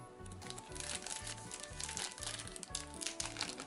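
Continuous crinkling of a plastic bag holding a USB power cable, handled up close while unboxing a car air purifier, with steady rustling and small crackles over a low, rhythmic background tone.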